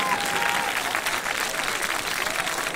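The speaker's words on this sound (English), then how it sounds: "The students are clapping for their parents and for their loved ones" Students at a graduation ceremony clapping together for their parents in sustained, dense applause that fills the room evenly without pause.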